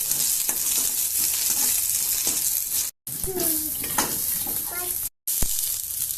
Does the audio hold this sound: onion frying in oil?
yes